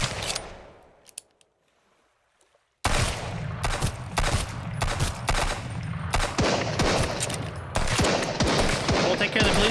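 Rapid gunfire in the survival video game Sunkenland, with dense bursts of shots crackling loud and close after a brief quiet stretch, continuing steadily to the end.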